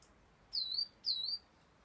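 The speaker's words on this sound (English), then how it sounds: "what birds are those?" Two short, bright bird chirps, evenly spaced, over a soft background hiss.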